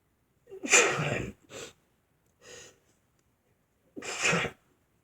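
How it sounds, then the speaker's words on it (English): A person lets out a loud, close sneeze with a sharp intake and burst, followed by short breathy snorts and then a second forceful sneeze. "I also am sneezing."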